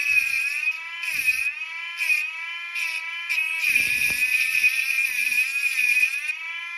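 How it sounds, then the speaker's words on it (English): A didumen cordless tungsten electrode sharpener spins at setting three, giving a steady high-pitched motor whine that wavers slightly in pitch. Brief hissy bursts of grinding break in at intervals. "That's the didumen cordless tungsten grinder."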